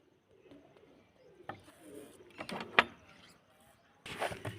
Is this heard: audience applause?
no